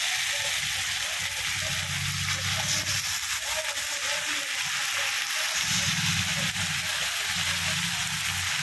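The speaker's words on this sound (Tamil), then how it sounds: "இப்போ நம்ம இந்த கறியை இந்த மசாலாவில் போட்டுருவோம்." Chicken pieces, cleaned and washed with turmeric, sizzle and fry steadily in hot masala of dried red chilli, tomato and garlic, a continuous close crackling hiss with low rumbling stirring noises.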